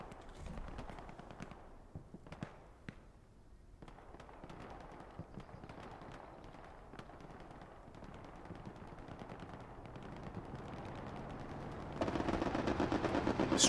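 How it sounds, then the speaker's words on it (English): Strafing-run machine gunfire over a half-track in the Hell Let Loose war game, bursts of rapid shots and scattered distant gunfire building to a dense, louder volley at the end, with no talk. "Strafing run comes in over the half track"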